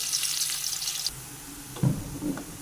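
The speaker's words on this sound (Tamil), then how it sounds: "கோல்டு வின்னர் ஆயில் விட்டுருக்கேன். நல்லா வணங்கட்டும்." Onions frying in Gold Winner oil for a wedding-style biryani, a bright sizzle at first that drops away, then a few nearby clatters and stirring sounds, no talk.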